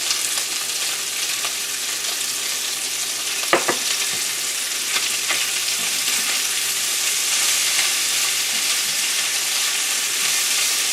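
Onion and garlic added to a pan with Polish kielbasa fry with a loud, steady sizzling hiss, broken now and then by brief scrapes and clinks of stirring, close up and with no talking.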